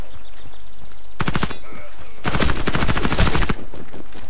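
Rapid automatic gunfire from the shooter game Warface comes in two long, loud, close bursts, a short one and then a longer sustained stream, with a brief quieter pause between.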